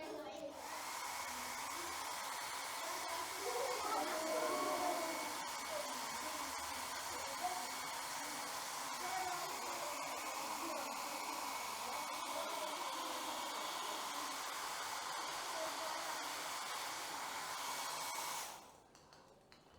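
Hair dryer blows steadily for nearly twenty seconds with a constant airy roar, used to float a ball in a science experiment, then cuts off abruptly at the end.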